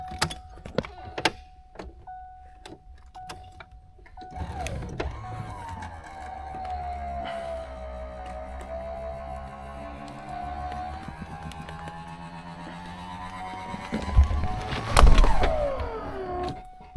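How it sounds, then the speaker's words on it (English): Power convertible top of a 1989 Mustang GT cycling with a steady electric motor whine that rises and falls for about ten seconds, preceded by faint clicks and ending in a louder clunk as it locks. "showing the top going up and down"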